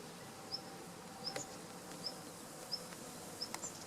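Honey bees buzzing faintly around a hive during a summer honey harvest, with soft intermittent buzzes and occasional brief clicks over a quiet background.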